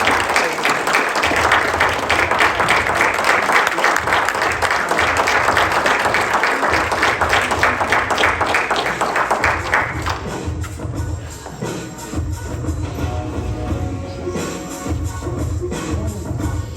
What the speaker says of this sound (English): please give a strong and loud round of applause for Miss Henrietta White.